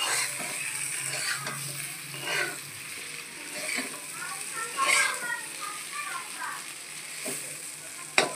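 Fried fish, potato and eggplant stirred in a pan of curry over high flame, a steady sizzle with intermittent spoon scrapes and clinks, while someone talks and children's voices sound faintly in the background.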